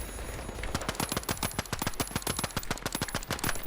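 Rapid automatic gunfire in the video game The Finals, a steady burst of closely spaced shots running for several seconds at close range, no talk over it.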